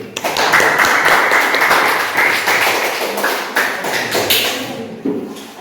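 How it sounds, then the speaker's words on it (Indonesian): A school debate audience claps for both teams, a dense burst of applause that gradually thins into scattered claps and taps. "Berikan tepuk tangan Untuk kedua tim."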